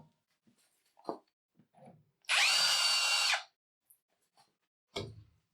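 A power drill fitted with an external chamfer bit, with cutting paste, removes burrs from a soft steel bolt. It whirs loud and near in a single burst of about a second, with faint small knocks and handling sounds around it.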